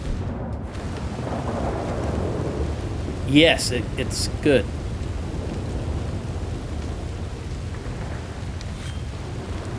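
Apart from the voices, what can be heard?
thunderstorm in the video game Red Dead Redemption 2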